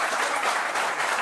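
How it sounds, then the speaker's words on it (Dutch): Studio audience applause on a Dutch football talk show, a dense continuous wash of clapping at steady loudness throughout, with no voices over it. "Ja, komt er gewoon nog een keer applaus."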